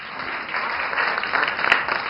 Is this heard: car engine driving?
no